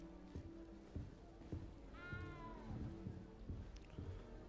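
A cat meows in the video game Hogwarts Legacy, one drawn-out, rising-then-falling meow near the middle, set over steady game music and ambient sound.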